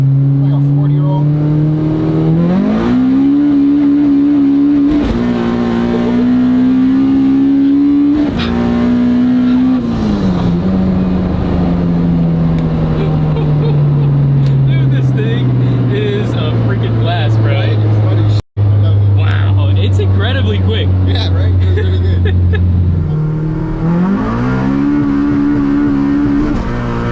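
A 1050 hp all-wheel-drive Honda Civic hatch, a light street car, accelerating hard on nitrous, its engine climbing through rising pitch sweeps with gear changes, loud and sustained from inside the car.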